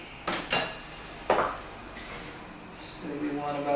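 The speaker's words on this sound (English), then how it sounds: "so I'm going to have to shave some of this off" A chef's knife shaves a chunk of raw chocolate on a cutting board, making a few sharp, close scraping knocks with short pauses between them, followed by a brief voice.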